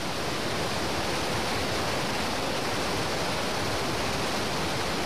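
A river's current rushes steadily beside a makeshift crossing, a dense, unbroken roar of water close by with no pauses and no voices.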